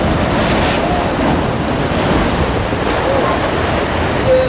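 Ocean surf crashes and rushes continuously and loudly close by, mixed with strong wind buffeting the microphone, with no pauses across the stretch.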